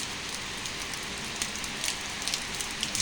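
Heavy rain falls steadily on a November day, a dense hiss with scattered louder drop taps throughout, no voices.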